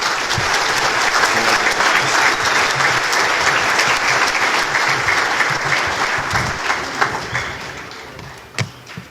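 Sustained audience applause for a scholarship recipient at an awards event, a dense steady clapping from a full crowd that holds for several seconds and thins out toward the end with a few scattered claps.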